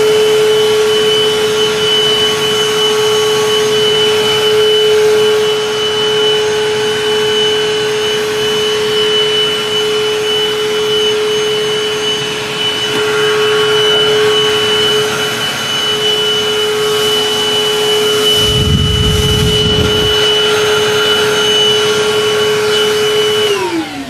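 A Milwaukee 18V cordless shop vacuum blows air with a loud, steady whine and constant whoosh, blowing off heavy wet grass, briefly roughening near the end before winding down.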